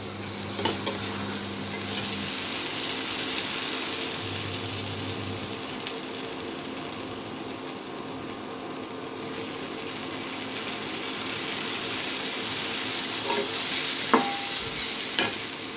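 Continuous sizzle of tomatoes frying in a pan, close and even, with occasional clicks and clatters of utensils.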